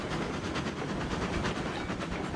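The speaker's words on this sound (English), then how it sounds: "But a small train like this is doable." Steady rumbling and clacking of a small train running on rails in Railroads Online, a dense, even wash of track noise with slight pulsing rhythm, heard alone without talk.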